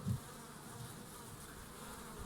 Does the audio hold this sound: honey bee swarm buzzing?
yes